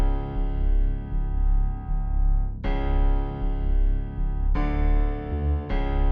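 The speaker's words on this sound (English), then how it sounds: "At the end, I do have like a synth bass and then like a piano that sounds like this" Beat built around a deep synth bass with piano chords changing every couple of seconds, dense sustained tones filling the low end, loud and steady with no voices.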